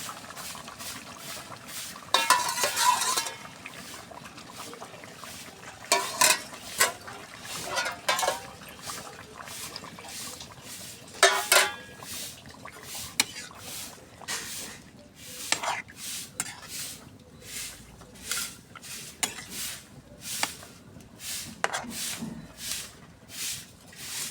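A spoon scrapes and knocks against a pot while beef is stirred with radish, eggplant and potato, giving irregular clinks and soft wet patter, fairly close, with a voice briefly heard.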